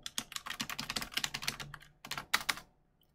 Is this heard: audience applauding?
no